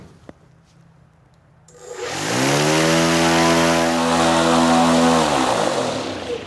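A CNC-machined propeller mounted on an alternator hub spins up from quiet to a loud, steady high-throttle roar with a rising whine that holds level, close by and without talk.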